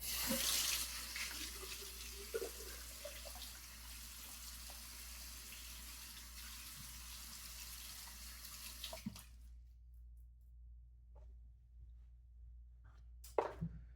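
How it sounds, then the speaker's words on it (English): Tap water runs steadily into a sink while rinsing off after a straight-razor shave, then cuts off, leaving near silence broken by a brief splash or clatter near the end. "All right, let me rinse off."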